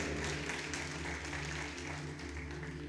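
A church congregation applauds together during a worship service, a dense, steady wash of clapping from many hands that holds at an even level throughout, with no talking over it.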